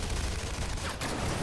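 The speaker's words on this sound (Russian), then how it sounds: "У него на голове пулемет?" Dense, continuous machine gun fire from a 2019 dinosaur action movie trailer, loud and unbroken, with a brief sharp burst near the end.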